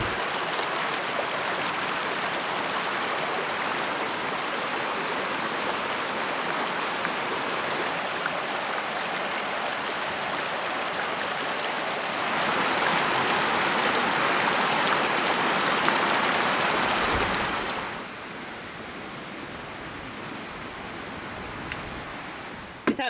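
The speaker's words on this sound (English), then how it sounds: "Nice little creek back there." A small creek beside a campsite on the Oregon coast flows with a steady, soft rushing hiss that swells slightly louder for a few seconds and then settles back to a gentler wash.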